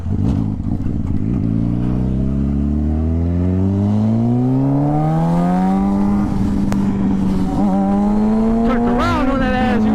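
A car turning around with its tires squealing: the engine revs up and climbs in pitch while the tires screech, loud and close, throughout the whole clip.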